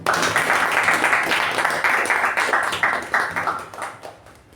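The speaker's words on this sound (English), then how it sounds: "Big round of applause for Toastmaster Rachana." Audience applause following a Toastmasters meeting speech, a steady wash of many hands clapping at moderate loudness that gradually thins and fades toward the end.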